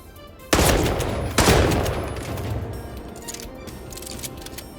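Gunfire in the Hitman Freelancer video game, an arms-trafficking mission: two sharp, loud shots about a second apart, each followed by a long, echoing decay that fades into a quiet game-world ambience.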